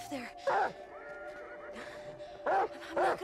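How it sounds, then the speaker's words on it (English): Horses in the video game Beyond: Two Souls whinny several times in short, shrill bursts over a quiet background with faint hoof sounds. "Look at the horses."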